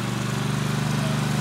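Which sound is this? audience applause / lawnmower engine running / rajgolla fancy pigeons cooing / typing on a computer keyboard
lawnmower engine running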